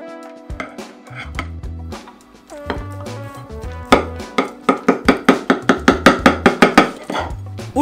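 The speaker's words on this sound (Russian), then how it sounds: "Ножом мясо отделяем от косточки." A knife works meat off the bone, with sharp, evenly spaced strikes against a board that grow louder and quicker toward the end, over faint background music.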